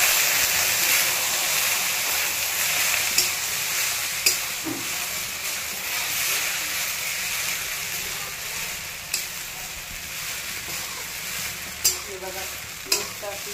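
Milk poured into sabudana khichdi in a pan and stirred, a continuous bubbling sizzle with occasional spoon scrapes and taps against the pan, close and steady.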